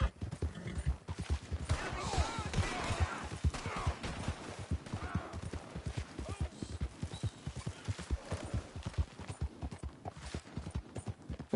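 Horse hooves trotting in the Red Dead Online video game, a steady rapid clip-clop rhythm throughout with faint voice in the background.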